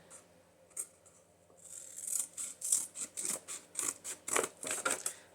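Scissors snip through junk journal cover material in a quick run of crisp, close cuts after a quieter start, about a dozen sharp bites in a steady rhythm.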